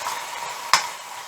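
Masala with coriander powder and turmeric frying in oil for a mutton or lamb liver fry, a soft continuous sizzle broken by one sharp clink of a spoon against the pan, close up, no voices.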